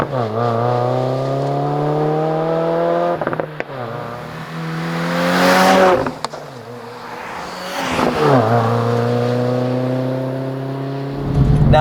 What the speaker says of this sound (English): my list is the MBRP 3-inch race exhaust